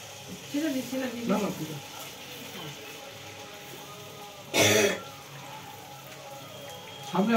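Mung dal kachori frying in hot oil, giving a steady hissing sizzle that runs throughout, with voices talking over it and one brief louder burst midway.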